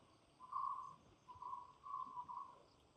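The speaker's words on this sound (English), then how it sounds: "The chirping of the bird." A bird in the wild gives several drawn-out whistling calls at a steady pitch, moderately close, over a quiet natural background with faint insect hum.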